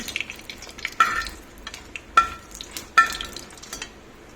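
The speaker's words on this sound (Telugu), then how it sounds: "కరెక్ట్గా వేగిన పచ్చడి. చూసారు కదండి, ఎక్కువ వేగుతాయి." Coriander chutney fries in a pan with a soft sizzle, punctuated by three or four distinct clanks and scrapes of a spoon stirring against the metal, close-up with no talking.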